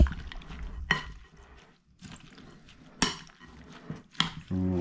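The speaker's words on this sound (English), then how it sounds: "Gonna give it all kind of a stir." A spoon stirs ceviche in a bowl, with raw reef fish, tomato and other chopped ingredients mixed together. It makes wet squishing turns and a few sharp clinks of metal against the bowl, at close range and loud, with quieter stretches between the strokes.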